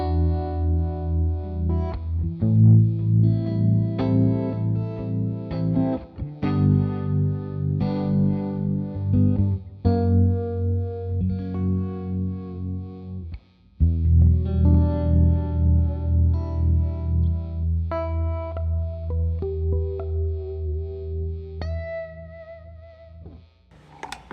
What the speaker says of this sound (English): It's got some harmonic tremolo and a spring reverb tank, obviously.